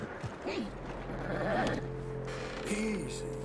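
A horse in the Red Dead Redemption 2 video game gives a couple of short, breathy whinnies and nickers over a low steady hum, with a person talking quietly in between.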